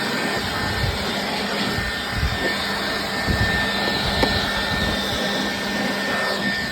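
A cordless battery-powered blower clears packed debris from a TYM T264 tractor and Andy 500 bush hog, a steady loud rushing whir holding throughout, close and continuous with no talk.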